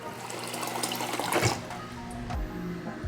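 Tap water runs into a tea kettle being filled to a full pot, a steady close splashing stream that builds and shifts in tone over about three seconds.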